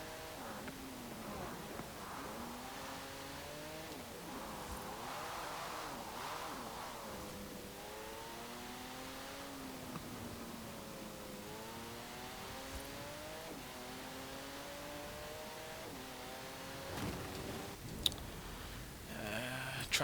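A Pagani Huayra BC's twin-turbo V12 in Forza Horizon 4 drones and rises through repeated gear pulls, with shifting pitch sweeps and a couple of sharp clicks near the end, quiet and continuous throughout.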